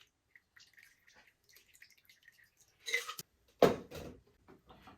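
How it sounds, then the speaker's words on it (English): A strawberry cocktail trickles slowly through a double strainer into a glass, producing sparse, quiet drips followed by a brief, louder splash, with near silence between. "It pours nice and slow."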